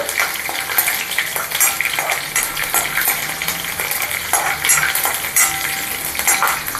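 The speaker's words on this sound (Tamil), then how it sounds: "இஞ்சி பச்சை மிளகா அதை இதில் சேர்த்துக்கிறேன் சேர்த்துட்டு ஒரு தடவை ஒரு பரட்டி விட்டுட்டு" Ginger and green chilli stir-fried in a pan for a ghee roast podi masala dosa, a steady loud sizzle broken by repeated scraping stirs of a spatula across the metal, with no voices.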